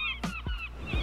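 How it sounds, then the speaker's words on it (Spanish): A stock seagull sound effect: a few short, loud squawking calls sound close against a faint background of ocean ambience. "sonido de gaviotas, sonido de océanos,"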